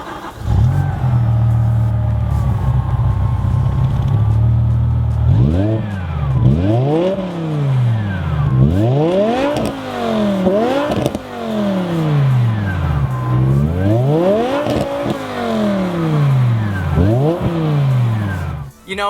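A BMW M5 V10 sedan revs repeatedly with a high, exotic F1-like wail, loud and close: a steady idle drone first, then a run of rising and falling sweeps from about five seconds onward.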